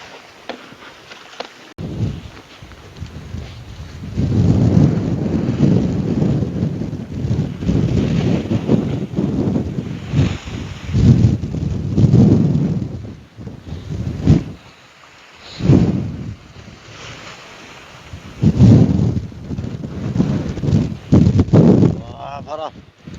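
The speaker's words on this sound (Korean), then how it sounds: "아이고 바람 엄청납니다 지금" Strong typhoon wind roars and buffets across the microphone on a seashore at Jangseungpo during fishing, gusting in waves with short lulls while someone talks over it.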